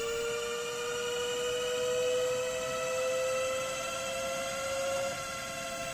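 Super Soco TC Max electric motorcycle running on a dyno on standard controller settings: a steady high-pitched electric motor whine with sustained tonal harmonics over rolling-road roar, constant and close throughout.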